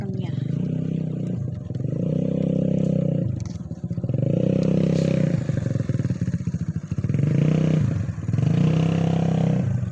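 A motorcycle engine idles and revs in repeated swells close by, while people talk over it.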